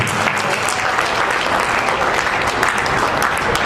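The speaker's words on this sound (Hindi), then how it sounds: "जोरदार ताली बजा के स्वागत कीजिए।" Loud, steady applause from a crowd at a Vishwa Hindu Mahasangh gathering, welcoming a newly appointed media in-charge onto the stage, with dense clapping sustained throughout and no break.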